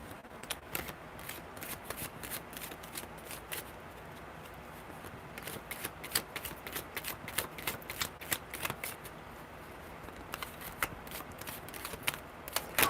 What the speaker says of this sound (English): Billy, tell me when to stop shuffling.